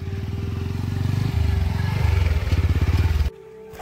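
A motorcycle rides along an off-road track in the West Khasi Hills of Meghalaya. The engine chugs loud and close with pulsing revs, then cuts off abruptly near the end.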